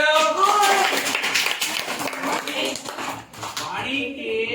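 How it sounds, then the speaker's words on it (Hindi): Children clapping in a classroom, a lively patter of many small hands for several seconds, with voices and chatter mixed throughout. "बहुत बढ़िया, ताली बजाओ।"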